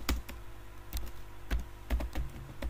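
A computer keyboard is typed on quickly while writing a PHP database update query: a close, crisp run of uneven key clicks with no talking.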